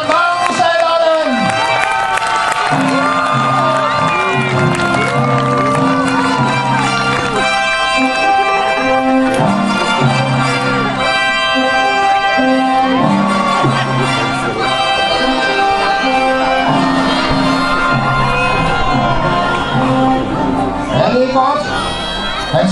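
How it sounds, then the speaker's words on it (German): Crowd at a medieval festival in Nysted cheering and shouting for a tournament winner, dense and continuous, with whoops and a busy backdrop of voices and festival noise throughout. "Blot for at bifælde igen, mine venner."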